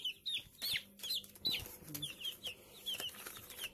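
Broiler chicks peeping during weighing in winter rearing, a rapid run of high chirps close by, with faint low handling noises and no talking.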